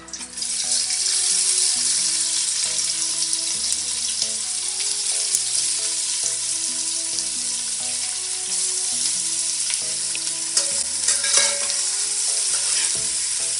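Sliced onion frying and being stirred in a pot with bay leaf, cooked toward pink for a mutton biryani; a loud, steady sizzle runs throughout with clinking and scraping stir strokes and no talking.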